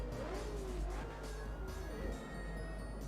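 A Koenigsegg engine revs in a racing video game, a steady throaty drone with rising and falling pitch sweeps across about three seconds, fairly loud and alone without talk.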